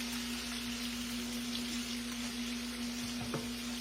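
Green tomato slices fry in a pan in a home Southern kitchen, giving a steady, close, continuous sizzle and crackle with a constant hum running underneath.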